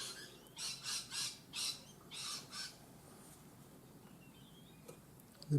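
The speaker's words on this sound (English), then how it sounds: "The parrots are having fun outside." Several parrots squawk outside in a quick run of loud, harsh calls, then fall quiet, leaving a low ambient hum with a faint distant call near the end.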